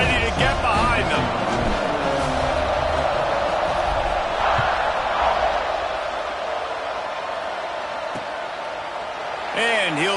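A packed stadium crowd at a college football game involving Alabama and Ohio State roars in a continuous, dense wash of cheering and yelling, with an announcer's voice talking over the noise.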